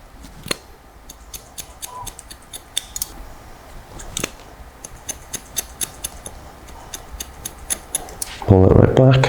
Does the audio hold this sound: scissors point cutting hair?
yes